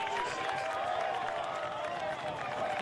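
A high school baseball championship crowd on its feet, a steady wash of cheering and clapping from the stands heard at a distance under a commentator's talk.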